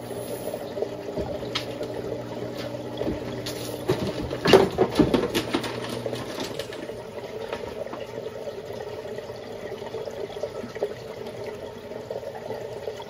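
Water drains through an Eshopps AEO11015 overflow box on a 60 gallon breeder aquarium, producing a soft continuous trickling and gurgling with scattered splashy patters, peaking briefly midway.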